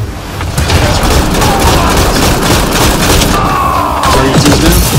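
Rapid gunfire with booming thuds in the video game Apex Legends, loud and dense throughout with a few brief tonal game effects over it.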